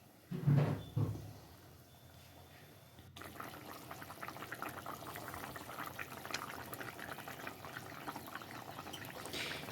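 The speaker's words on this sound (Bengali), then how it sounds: "বেগুনগুলো দিয়ে এটাকে এবার কিছুক্ষণ ফুটতে দেব" A fish curry with eggplant simmers in a pot, giving a soft, steady bubbling hiss that starts after a brief knock and continues quietly and evenly to the end.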